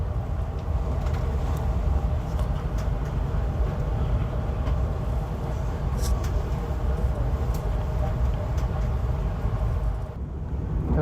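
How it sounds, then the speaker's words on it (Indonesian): KA Jayakarta passenger train pulling out of track 3 at Purwokerto station, a steady loud rumble of wheels and carriages heard from inside, continuous with faint clicks and a brief dip near the end. "kita langsung diberangkatkan dari jalur 3 stasiun Purwokerto"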